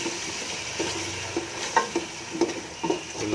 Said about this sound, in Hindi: और फिर इस मसाले को भूनूँगा।